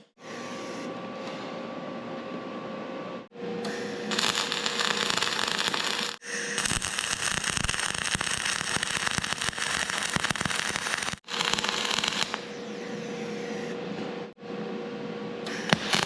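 Flux-core arc welding with 0.035-inch wire in a home welding shop, loud sustained crackling and sizzling bursts broken by short pauses between several separate welds.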